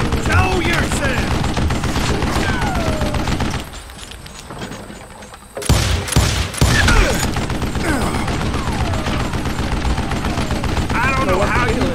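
Gunshots in the video game Call of Juarez Gunslinger: loud, rapid volleys of gunfire with sharp cracks, a brief quieter lull partway through, then the shooting resumes, with someone talking over it.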